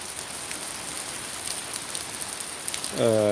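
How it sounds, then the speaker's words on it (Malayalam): Heavy rain pours down in a dense, continuous hiss, with a brief tonal hum rising at the very end. "ഈ ഒരു കാലാവസ്ഥ ഇപ്പോൾ മഴ ഭയങ്കരമായിട്ട് പെയ്തുകൊണ്ടിരിക്കുന്നൊരു സമയമാണ്"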